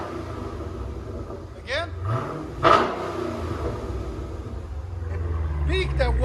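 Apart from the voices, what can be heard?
Dodge Challenger Scat Pack V8 dual exhaust revving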